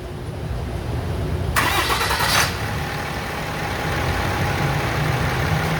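A Dodge RAM with a 6.7 L Cummins diesel cranks briefly with a bright, loud whir, catches, and settles into a steady, rumbling idle close by.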